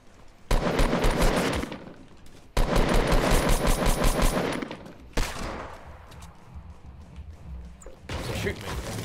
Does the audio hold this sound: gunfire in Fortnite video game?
yes